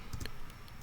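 A few quiet, light clicks of keys being typed on a Mac computer keyboard while entering a terminal command, heard close up with no talking.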